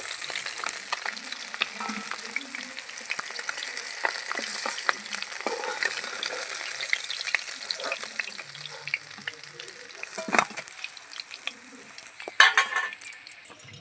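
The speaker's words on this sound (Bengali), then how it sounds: "মাছগুলো লাল করে ভাজা হয়ে গেছে আমি তুলে নিচ্ছি" Fried bata fish is lifted out of hot oil, a continuous bright sizzle and crackle with scattered clinks of a utensil against the pan, a louder burst near the end.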